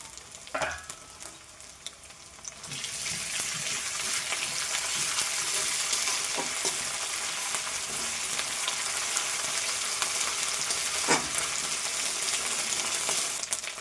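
Ginger paste hitting hot oil in a pan for a snakehead fish curry: a loud, sustained sizzle bursts in after a couple of clatters and continues steadily, with occasional stirring knocks and no speech.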